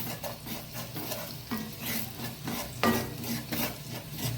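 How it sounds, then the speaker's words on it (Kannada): Grated coconut being dry roasted in a pan for a Mangalorean prawn pudi fry, with steady stirring and scraping, a faint sizzle and occasional utensil knocks against the pan, close and continuous with no talk. "ಒಳ್ಳೆ ಡ್ರೈ ಫ್ರೈ ಮಾಡ್ಕೊಳ್ಬೇಕು ಇದನ್ನು"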